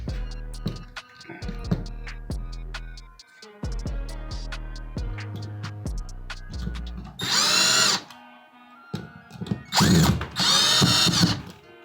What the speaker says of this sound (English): I'm about to drill these in on there